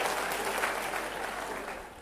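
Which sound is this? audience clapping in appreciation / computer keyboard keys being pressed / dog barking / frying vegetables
audience clapping in appreciation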